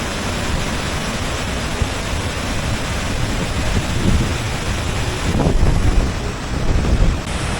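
The flooded Madhvanti river in the Gir area near Alidhra village, Mendarda, rushes after heavy rain, a loud broad roar of water with gusts of wind buffeting the microphone.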